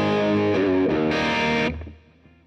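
Electric guitar with the bridge pickup played through a modded Boss DS-1 distortion pedal, a loud, saturated chord riff with a few changes that rings out and decays at the end, alone with no talk.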